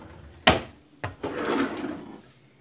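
A drawer slides and bumps shut twice in quick succession, followed by a softer rolling slide, close by in a quiet room.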